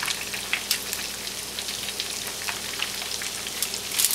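Chicken pieces for KFC-style fried chicken frying in a pan of oil, a steady close crackle and sizzle with scattered pops, no voices.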